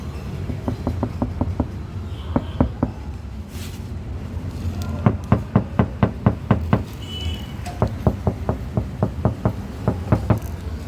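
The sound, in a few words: knocking on a sound-damped car door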